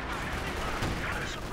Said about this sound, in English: got a artillery strike going down here on the attackers